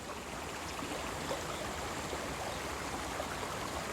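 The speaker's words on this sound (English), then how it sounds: "we've got ourselves some rapids" River rapids in the remote Sacred Headwaters wilderness of Canada rush in a continuous, dense roar of churning water, loud and even from start to finish with no voices.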